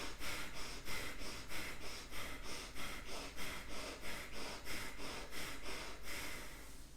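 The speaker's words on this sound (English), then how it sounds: "And then breathe, inhale and exhale actively." Rhythmic, active breathing during a yoga practice, quick inhales and exhales repeating steadily about twice a second, close and fairly soft, with no talking.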